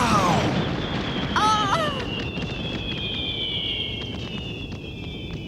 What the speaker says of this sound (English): That's what I call fireworks.